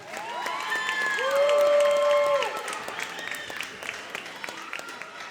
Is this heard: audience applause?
yes